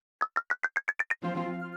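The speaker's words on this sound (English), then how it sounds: "Like all those lasers going off, that is the sound of money." A quick run of eight bright, rising electronic blips from a black hole feeding video game fires off in a rapid row, followed by a sustained shimmering chime tone, clean and close with no talking.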